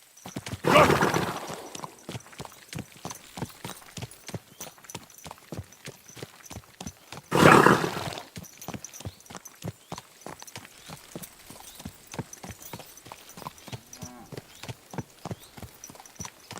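Steady clip-clopping hooves of a horse in the video game Kingdom Come: Deliverance 2, broken by two loud whinnying neighs, one early and one midway, close and clear.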